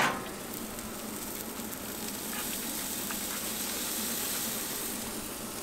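Bacon-mixed burger patties sizzle steadily on a grill, a continuous loud crackling hiss with scattered pops, no voices.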